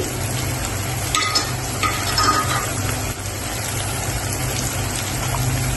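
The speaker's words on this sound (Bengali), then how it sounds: "এটা ভালো করে ভেজে নেব।" Garlic, onion, nut, poppy seed and coconut pastes with sour yogurt and whole green chilies fry for a beef liver curry, producing a dense, rain-like sizzle with occasional stirring scrapes, close and continuous without speech.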